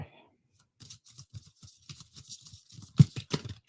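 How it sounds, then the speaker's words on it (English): A deck of tarot cards shuffled by hand on a cloth, giving a series of soft, irregular riffling and slapping bursts close by, with a sharper snap near the end, and no speech. "Trying to shuffle them up real good."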